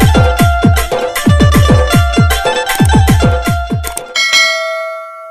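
A bell dings rapidly and repeatedly, loud and close, then stops, leaving a long ringing tone that slowly fades.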